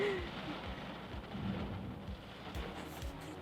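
Steady rain falling outdoors, a constant soft hiss with low rumbling patter underneath, fairly quiet and continuous throughout with no voices.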